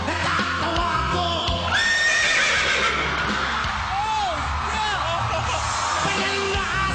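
A person imitates a horse's neigh with rising and falling whinnying cries, loud and close, over a busy background of other voices and noise.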